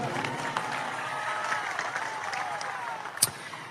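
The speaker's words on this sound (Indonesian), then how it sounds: "Kita berikan tepuk tangan untuk beliau." Applause from a large gathering at a religious study session with a preacher held by the Aceh regional police, a steady wash of clapping throughout, moderately loud with one sharper clap near the end.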